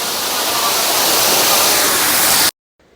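Athirappilly waterfall roaring as a loud, steady broadband rush close by, continuous for most of the moment before cutting off abruptly into near silence.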